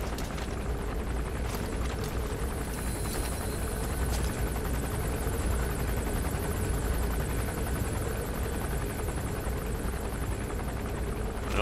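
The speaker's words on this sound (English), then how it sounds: "It'd also be interesting to see what the hell that helicopter's doing." Helicopter in the Metal Gear Solid V: The Phantom Pain video game, a steady rotor drone with a heavy low rumble that holds unbroken and fairly loud throughout, with no talk.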